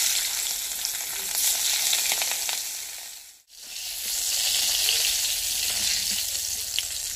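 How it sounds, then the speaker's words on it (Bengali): Steady, loud sizzling of fish frying in hot oil, a dense bubbling hiss that briefly drops away near the middle before returning at full strength. "সেই তেলে মাছ দিয়ে দেবো।"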